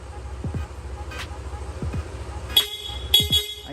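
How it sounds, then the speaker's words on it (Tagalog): Two separate pairs of short, bright stock horn toots from a Yamaha NMAX 155 V2 motorcycle, close by, over a low steady engine idle and faint background noise. "Sir, pabusina naman, stock horn."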